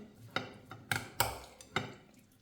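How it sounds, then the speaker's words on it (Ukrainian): Cucumbers and sauce filling being mixed in a bowl, a handful of light clinks and taps of a utensil against the dish at an uneven pace, close and quiet. "Тепер треба все це зараз гарно перемішати"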